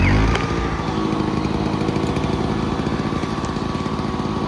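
Honda EX350 two-stroke inverter generator running steadily at a close distance, a loud, even buzzing engine drone with no speech.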